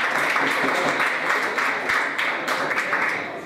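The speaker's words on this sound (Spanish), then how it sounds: "Es más, aplaudanlo." A stand-up comedy audience at a humour festival breaks into sustained applause, dense clapping holding steady throughout at close, loud level.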